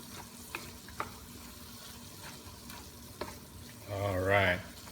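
Shrimp paste mixed in a cooking pan for ginataang shrimp, soft faint sizzle with a few light utensil taps, then a brief louder rising sputter near the end.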